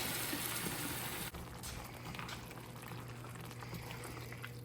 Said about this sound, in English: We're going to let this simmer together